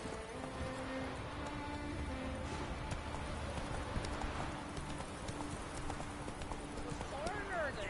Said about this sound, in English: Time to get my horse riding in.